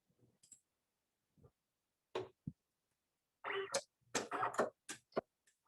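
Silhouette cutting machine running a test cut: quiet, scattered clicks and short mechanical whirring bursts, closely spaced and growing busier toward the end, with no talking.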